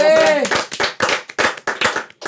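Handclaps at a casual Indonesian podcast wrap-up, several sharp irregular bursts after a brief voice at the start, fairly close and moderately loud.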